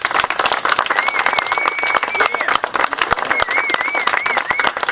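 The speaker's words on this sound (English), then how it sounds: "Please give this man a round of applause." Crowd applause for a U.S. Army Ranger veteran at a news conference at the Texas Capitol, dense clapping with sharp individual claps close by, a whistle-like tone sounding over it midway and again later.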